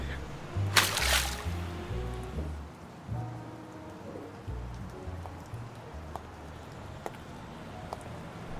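Steady rain falls outdoors, a continuous wash of drops spattering on surfaces, with a brief louder burst near the start and low murmuring sounds beneath, no clear speech.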